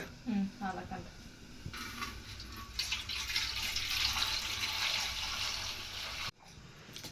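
Water pours steadily into a pot for several seconds, a soft, rushing splash heard fairly quietly, with someone talking just before it.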